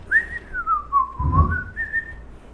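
A person whistles a short, clear tune, one sliding melodic line that dips and rises again, close and alone, with a soft thump partway through.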